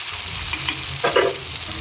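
Mural fish fries in a pan with a continuous soft sizzle, broken by one brief burst of scraping or spitting oil, close and fairly quiet.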